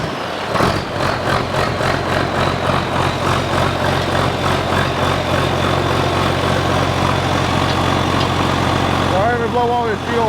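An engine turned over and running steadily, a loud, close, continuous rumbling drone with a pulsing rhythm throughout, a voice speaking over it briefly near the end.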